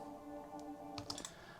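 A layered atmospheric synth pad for progressive house, made from several pads combined, holds a quiet sustained chord with a few faint clicks near the end.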